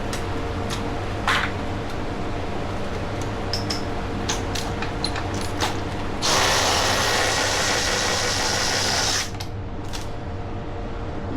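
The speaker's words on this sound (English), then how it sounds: "We're gonna remove the spark plug." A ratchet spark plug tool works loose a spark plug from a B18C engine, with a series of sharp ratcheting clicks followed by a steadier burst of continuous ratcheting, close and clear with no talking.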